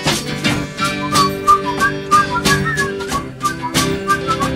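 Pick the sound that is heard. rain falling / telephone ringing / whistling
whistling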